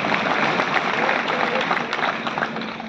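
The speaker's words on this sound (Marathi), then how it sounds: "त्यांचं टाळ्या वाजून एकदा अभिनंदन करून टाका" A crowd at an outdoor political rally in Shahapur breaks into applause, a thick continuous wash of clapping and crowd noise that stays loud throughout and tapers slightly at the end.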